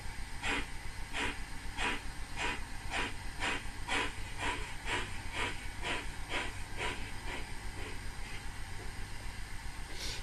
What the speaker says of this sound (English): Jerky locomotive there.